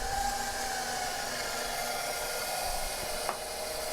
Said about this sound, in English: back in this KitchenAid here, I have the whisk back. And we're gonna put it on medium.